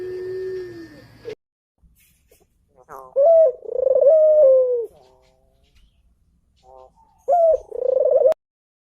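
A ringneck dove (Streptopelia risoria) coos in clear, close, hollow phrases, a few separate bursts spaced by quiet pauses, following a brief tonal sound at the start.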